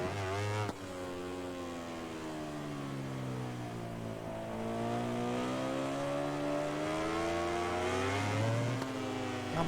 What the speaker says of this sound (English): there's so many bikes chasing us